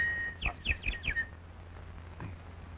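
A quick series of four or five high, bright bird chirps close by, followed by a fainter single call in a quiet setting.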